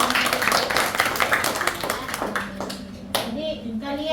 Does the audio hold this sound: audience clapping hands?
yes